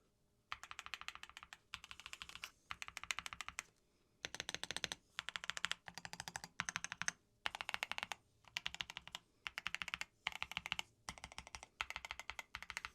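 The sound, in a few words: typing on a Higround Basecamp 96 keyboard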